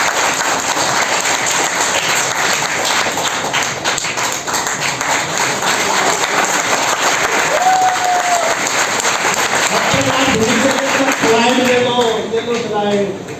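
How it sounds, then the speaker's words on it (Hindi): Women in an audience clap for a nutrition product at an RCM business training session in Faridabad, with steady, dense applause running the whole time and mixing with voices. "और महिलाओं के लिए महिलाएं ताली बजाएंगे इस प्रोडक्ट के लिए।"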